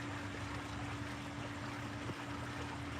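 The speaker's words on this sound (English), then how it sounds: "God, that water sounds so good." Running water flows steadily as a soft, continuous wash with a faint low hum beneath it and no voices.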